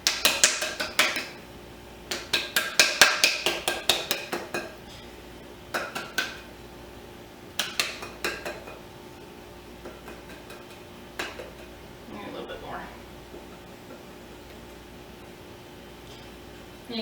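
Flour being tossed around inside a greased metal baking pan, giving irregular clusters of light clattering, tapping knocks and rattles separated by quiet gaps, close and moderately soft, with no talking.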